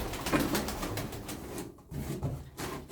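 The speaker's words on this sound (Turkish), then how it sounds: "Kuşlarımız bunlar arkadaşlar." Pigeons coo nearby in a loft, soft low throaty calls repeating in short rounded bursts, several overlapping birds heard close up with a brief muffled pause in the middle and no talking.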